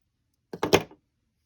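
Scissors snip through crochet yarn in a brief, close cluster of two or three crisp cuts lasting under half a second, alone in an otherwise silent moment.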